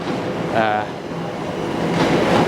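A London Overground train on the line toward London Fields and Bethnal Green stands at a station, a steady low rumble and hum of the train filling the platform with rising whine, alone without talk.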